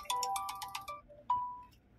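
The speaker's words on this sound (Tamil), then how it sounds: "நம்ம அலிபாய்க்கு வந்து ஃபோன் பண்ண, அவர் நெட்டை ஆஃப் பண்ணி வச்சுருக்காரு போல், அடிக்கிறாரு." A phone's ringback tone plays on an outgoing call: a quick series of electronic pulsed beeps followed by a longer single tone, thin and fairly faint, with nothing else around it.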